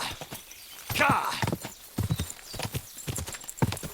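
Steady clip-clop of horse hooves at a walking pace in Kingdom Come: Deliverance 2, fairly close, with a brief whinny and some talking over the top.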